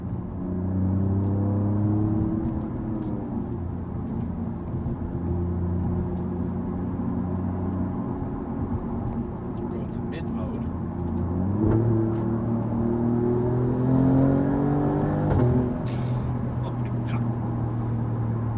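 A 2024 Alfa Romeo Giulia QV fitted with KW DDC coilovers cruises on a highway, its engine a steady droning rumble with tyre and road roar, rising in pitch through a couple of gear changes.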